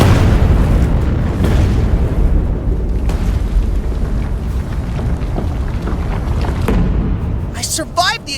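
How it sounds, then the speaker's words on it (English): A loud, sustained cartoon explosion roars from start to finish, a dense rumbling blast with scattered crackles that fades into a short whooshing tail near the end. "I survived the explosion"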